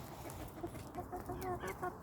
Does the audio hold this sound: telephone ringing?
no